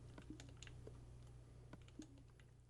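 Soft, rapid clicking of a mouse and keyboard while building in Minecraft, scattered light taps over a faint steady hum, no talk.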